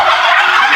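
Turkeys kept at a village house gobble in a loud, close, rapid burst that fills the brief moment without any talking.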